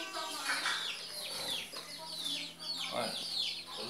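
Chicks peeping and hens clucking in a backyard poultry pen, soft high chirps and short clucks overlapping close by, fairly quiet, with a little background talk.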